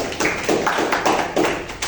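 Classmates in a classroom clap in quick unison bursts, a rhythmic run of crisp group claps, close and fairly loud, repeating in short groups without speech.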